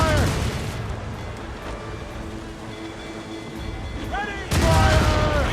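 Ship cannons fire during a naval battle in Assassin's Creed Rogue, a dense, loud, rumbling barrage that swells again near the end, with voices shouting over it.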